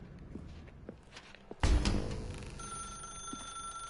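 In a video game, a telephone bell starts ringing abruptly after a few soft footsteps in a dark room, its bright, sustained ring sounding loud and close, with a steady high tone lingering afterward.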